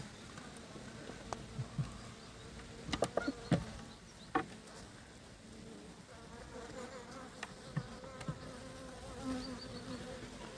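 Honey bees buzzing around an open hive at an apiary while frames are handled, a continuous insect drone close to the listener, with a few brief knocks and rustles.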